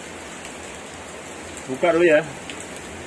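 Steady rain falls outdoors as a constant hiss throughout, with a voice briefly speaking over it.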